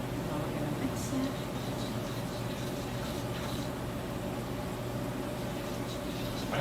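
Steady mechanical whir of heavy whipping cream being mixed for strawberry shortcake, a continuous even drone held at a moderate level for several seconds with no pauses.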